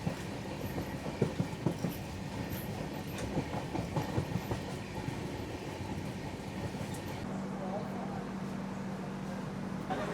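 The Kolkata–Sairang Express 13125 rumbles along at speed with a steady rattle of wheels on rail and scattered clicks. The noise shifts partway through to a smoother drone with a low steady hum.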